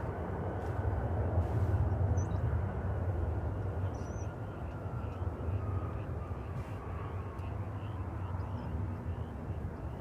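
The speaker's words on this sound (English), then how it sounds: "American Flight 2659, bound for Santa Ana, California, is rolling down the runway" An American Airlines jet at Dallas Fort Worth airport rolls down runway 18 left for takeoff, heard as a steady, fairly distant broadband engine roar that holds evenly throughout.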